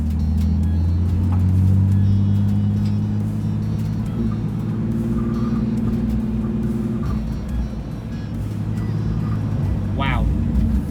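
A BMW on Toyo R888R tires drives and corners at low speed, with a steady, loud engine drone and low road rumble throughout; tire and engine tones waver as it turns, and a short rising whine comes near the end.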